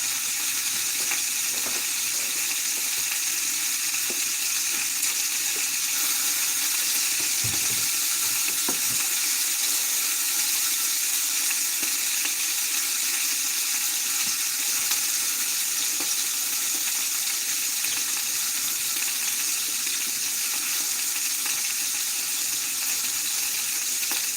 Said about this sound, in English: Now that I'm done touching the meat, I'm actually going to wash my hands.